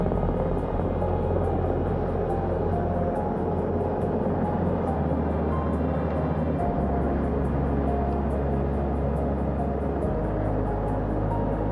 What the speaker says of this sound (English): Hearing them begin to hover on the flight deck, which is just across from us